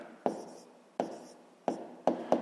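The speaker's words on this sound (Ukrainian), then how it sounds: "Ну що ж, записуємо малюнок." A pen or pencil writes down a math answer by hand, up close, in several scratchy strokes with sharp starts and short pauses between them.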